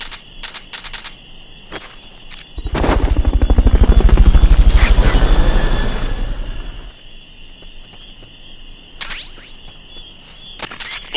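A helicopter rotor swells in with rapid thumping chops, peaks loudly, then fades, framed by short electronic game-like blips, from the video game Metal Gear Solid Peace Walker HD Edition.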